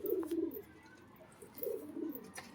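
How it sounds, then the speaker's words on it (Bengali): An old-generation male pigeon coos in low, rolling phrases, two bursts separated by a brief pause, fairly close against a quiet background. "তাদের জন্য একটা ওল্ড জেনারেশনের নর পায়রা বন্ধুরা পেয়েছি"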